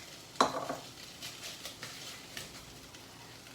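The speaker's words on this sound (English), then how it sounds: "now that my chicken is nice and browned up in here, you can hear it sizzling away" Browned chicken sizzles in a pot as a steady, soft frying hiss, punctuated by a sharp utensil clank and several lighter stirring scrapes.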